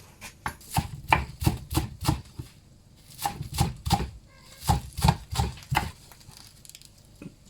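Chopping chives with a knife on a board, rapid rhythmic knocks in short bursts separated by brief pauses, close and clear with no talk.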